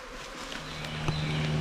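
Honeybees at a hive inside a burrow, buzzing in a steady, close insect drone that holds level throughout the short stretch.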